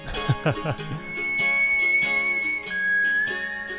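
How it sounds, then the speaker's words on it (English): A slide guitar glides through a smooth, sustained line that sounds much like whistling, over a punchy rhythmic country band backing. "that slide here, it sounds so similar to whistling"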